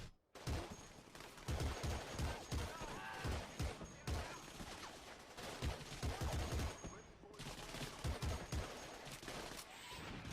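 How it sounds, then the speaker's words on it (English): Rapid, dense gunfire in a video game firefight, bursts of automatic weapons and single shots stacking up loudly and continuously, with a player talking over the shooting. "This is a crazy firefight."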